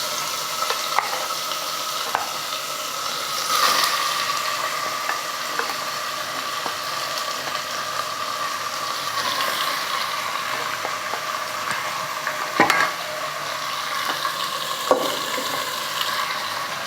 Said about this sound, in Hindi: बस ऐसे थोड़ा पका लेंगे हम 2 मिनट के लिए